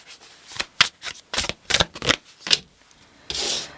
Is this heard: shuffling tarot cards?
yes